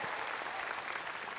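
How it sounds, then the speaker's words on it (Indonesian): Audience applause for the Mayor of Semarang, Hendra Prihadi, at a televised talk show, a dense, steady clapping from a crowd that fills the whole moment without pause. "Kita kasih tepuk tangan dong Wali Kota Semarang, Hendra Prihadi."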